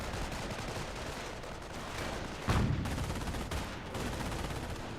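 Gunfire at a mortar half-track in Company of Heroes, a steady rattle of machine-gun fire under a dense battle din. One sharper, louder impact lands midway, and the shooting continues at a fairly distant, even level.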